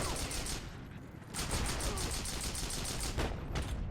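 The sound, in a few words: weapon gunfire in video game Heroes & Generals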